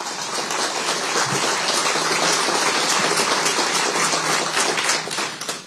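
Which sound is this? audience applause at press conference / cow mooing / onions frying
audience applause at press conference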